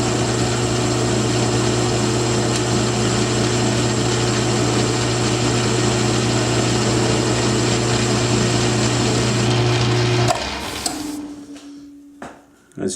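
A metal lathe cuts steel with an A.R. Warner carbide insert tool holder, throwing stringy chips: a loud, steady motor hum with a whining tone for about ten seconds, then the machine winds down and falls quiet.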